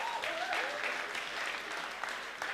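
Guests at a wedding reception keep up a brief, even burst of clapping from many hands, with a faint voice briefly audible at the start.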